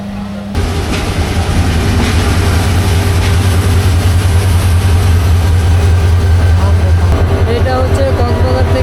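Close, loud heavy rumble of a passing train, the Prabal or Saikat Express running from Cox's Bazar toward Chattogram, a steady roar of engine and wheels starting abruptly and holding throughout with rattling overtones.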